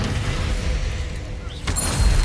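A Confringo blasting spell explodes in the video game Hogwarts Legacy, a low booming burst under game noise, with a sharper crack and rumble near the end of the short moment.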